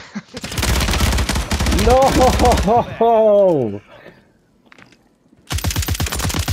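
Rapid automatic gunfire in the video game Call of Duty, loud and close, in long bursts that stop briefly and then return, with someone shouting over them.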